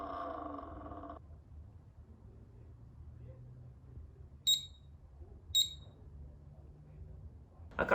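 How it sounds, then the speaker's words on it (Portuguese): A Multilaser HO041 robot vacuum gives two short, sharp electronic beeps about a second apart, standing out clearly in a quiet room with low background hum, after a brief stretch of talking at the start. "A cada minuto ele dá esse bip"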